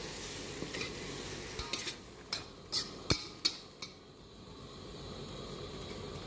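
Mixed mushrooms being stir-fried for a Thai basil stir-fry, with a spatula scraping and knocking against the pan in a string of sharp clicks over a soft, steady sizzle.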